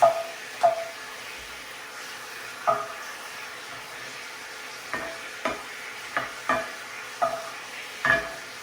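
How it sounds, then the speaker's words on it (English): Pork belly slices pan fry in a hot skillet with a steady soft sizzle and hiss, broken by occasional scrapes and knocks as the pieces are turned and pressed down. "I'm going to go ahead and get it pressed down again for a nice sear."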